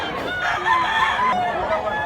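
A gamecock stag crows loudly and close, one drawn-out call filling the short clip.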